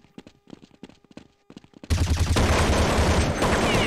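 Light rhythmic tapping and footsteps give way to a sudden long, loud burst of rapid AK rifle fire in a shooter video game, continuing to the end.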